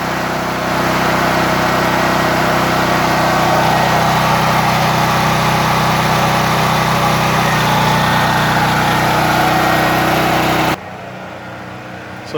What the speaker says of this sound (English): You heard the generator kick on.